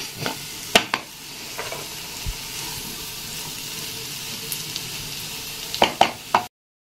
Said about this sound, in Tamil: இப்போ அப்படியே சிம்மில் வச்சு அப்பப்போ கொஞ்சம் அப்படி கிளறி விட்டுடலாம்.